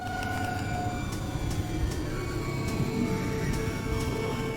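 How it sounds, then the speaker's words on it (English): A wavering, eerie siren-like tone from a house near a lighthouse on dunes in a video game drifts over a dense, rumbling ambient hum, steady and unbroken throughout. "Creepy siren house."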